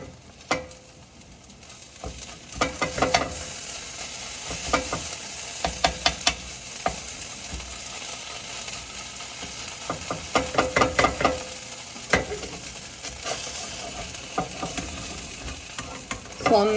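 Diced potatoes sizzle steadily in a frying pan while a utensil stirs and scrapes them, with bursts of clattering strokes recurring throughout, close and fairly loud, no talking.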